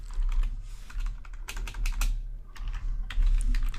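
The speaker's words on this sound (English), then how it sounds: "So I'm going to type in" Steady, fast typing on a computer keyboard, close and continuous, with clustered key clicks and brief pauses over a low background hum.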